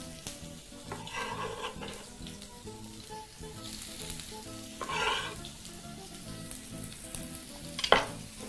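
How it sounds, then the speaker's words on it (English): Onions sizzle and fry in a pan for a one-pot spaghetti, a soft steady crackle with occasional louder bursts as they are tossed and stirred, ending in a brief scrape. "we're going to proceed to add onions to our pan"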